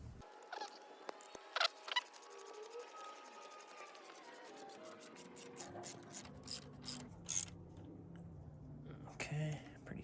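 A ratchet clicks in quick bursts as it tightens a 10 millimeter Allen bolt during maintenance on a Toyota JZX90 with a 1JZ engine, the close, crisp pawl clatter coming in short strokes over a quiet background.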